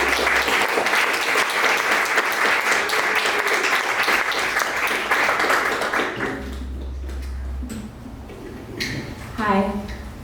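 An audience at a literary reading applauds to welcome a reader, steady dense clapping that fades out after about six seconds into room noise and a brief voice.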